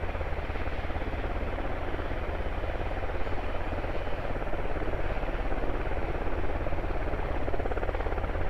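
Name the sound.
helicopter flying in the video game Squad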